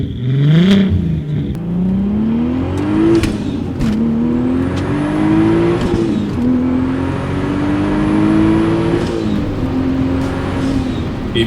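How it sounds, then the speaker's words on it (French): A mid-2000s Volkswagen R32 MK4 engine, race-modified, pulls hard while driving, its loud note climbing repeatedly through the gears with brief dips at each shift and a steady roar throughout, with no voices. "le son de ce véhicule-là est terrible"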